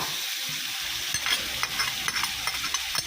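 Clams stir-fried in a wok with chili paste, sugar, seasoning sauce and oyster sauce give a steady close sizzle, with scraping strokes of a spatula landing at an irregular pace through the second half.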